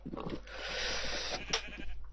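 Sheep bleating in Minecraft while wool is being sheared, a steady, moderately loud bleat that fills most of the clip before a brief sharper burst near the end, with no talking over it.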